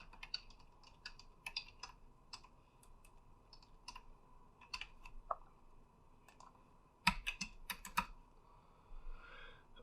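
Code being typed on a computer keyboard for a Unity game tutorial, with rapid irregular bursts of close key clicks, brief pauses, and a few louder keystrokes near the end.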